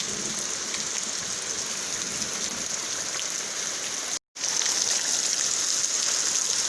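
Heavy rain pours steadily on a rural smallholding during a thunderstorm, a dense, continuous hiss of drops on surfaces that stays loud throughout, broken only by one brief dropout.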